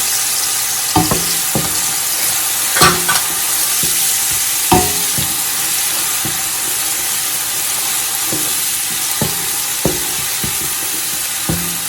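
Garlic and onion fry in a pan for pasta and chicken in red sauce, a steady loud sizzle broken by repeated knocks and scrapes of a stirring spoon at irregular intervals, with no talking.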